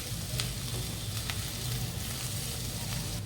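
Onion mixture with pepper and white sesame seeds sautéing in a pan, a faint, steady sizzle heard up close, with a few soft scrapes from stirring and no talk.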